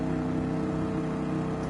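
A racing game's pace car with a titanium exhaust drones steadily at close range, a continuous engine note with a rich low rumble and no voices over it.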